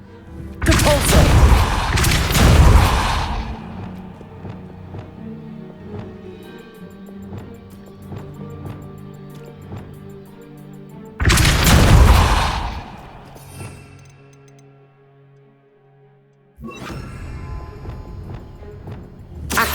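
A Depulso spell cast in Hogwarts Legacy on PC, heard as a loud booming blast with crashing debris, followed by ringing game tones, a second heavy burst a few seconds later and then sustained game ambience.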